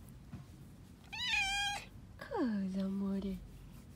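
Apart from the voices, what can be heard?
cat meowing and purring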